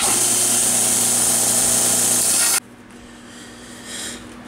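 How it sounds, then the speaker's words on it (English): Williams spud wrench being buffed and polished on a powered buffing wheel, a loud, steady whirring grind that cuts off abruptly partway, leaving quiet shop background. "let's start cleaning this up because I want to get a pretty good polish on this Williams wrench"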